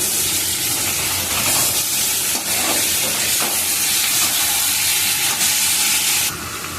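Chicken fries in a pan with carrots, tomatoes and boiled, peeled small potatoes, giving a loud, steady sizzle and hiss with occasional stirring scrapes throughout.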